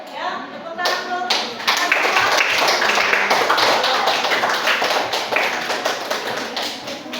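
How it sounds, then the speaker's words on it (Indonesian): A classroom of students claps together in a sustained, loud burst of applause lasting several seconds, with rapid overlapping hand claps and faint voices mixed in. "Ya, tepuk tangan dulu."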